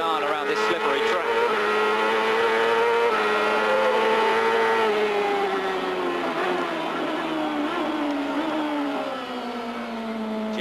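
A 1998 CART race car on the slippery Houston street circuit roars continuously from on board, its engine note rising and falling through shifts and braking, loud and close throughout.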